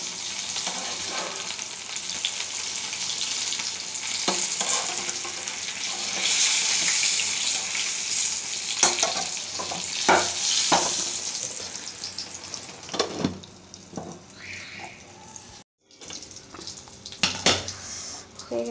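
Cauliflower paturi fries in a pan with a steady, dense sizzle, then stirring, scraping and light clinks of utensils against the pan, with the hiss thinning and breaking up toward the end; no one speaks.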